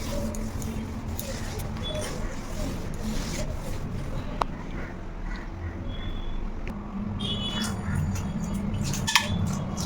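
A cloth rubbing and wiping across a kitchen slab after dishwashing, a steady soft scrubbing texture with a few small knocks, close and fairly quiet.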